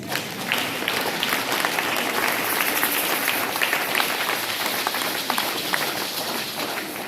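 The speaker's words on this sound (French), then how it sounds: "Est-ce qu'on peut encore acclamer le Seigneur?" Church congregation at a night prayer service applauding in praise, a dense, steady roar of many hands clapping throughout, loud and sustained, with a few voices faintly mixed in.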